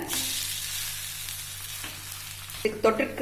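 Wheat rava adai frying in oil on a pan, a continuous crackling sizzle with a low steady hum beneath, followed near the end by a few louder clinks and scrapes of a utensil.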